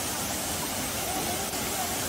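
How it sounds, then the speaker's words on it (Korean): Guryong waterfall on Odaesan mountain pours in a steady, dense broadband roar, a continuous rushing wash of falling water close by with no breaks. "오대산 구룡 폭포입니다."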